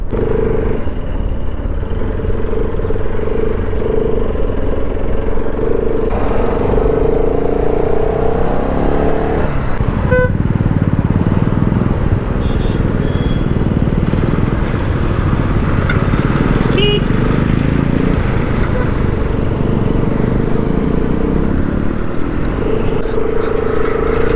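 A motorcycle rides through heavy Delhi traffic, its engine droning loudly and steadily for the whole stretch with rising and falling revs, occasional clatter and other vehicles around, and short horn-like tones now and then.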